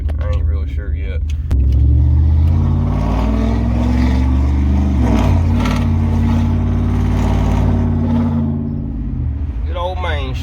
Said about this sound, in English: That exhaust claps off them buildings. Makes for a lot of racket.